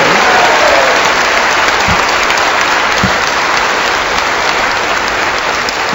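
A large audience at a Mumbai devotional satsang applauds the guru, a dense, even wash of clapping that holds steady throughout, with a couple of faint low thumps underneath.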